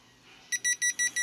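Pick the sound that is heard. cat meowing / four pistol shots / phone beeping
phone beeping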